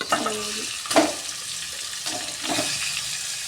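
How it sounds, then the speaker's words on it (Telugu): Marinated fish goes into hot oil with green chillies, onion and turmeric, giving a steady close sizzle and frying hiss with a stirring clatter and a brief voice near the start. "ఇప్పుడు మ్యారినేట్ చేసి పెట్టుకున్న ఫిషెస్ అయితే వేసేసుకుందాం"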